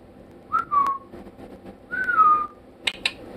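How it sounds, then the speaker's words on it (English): Someone whistles two short rising-then-falling calls, trying to summon a dog, followed by a couple of sharp clicks or lip sounds. The whistles are thin and fairly close, with a quiet pause between them. "I can't whistle."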